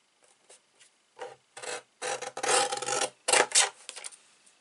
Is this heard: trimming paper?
yes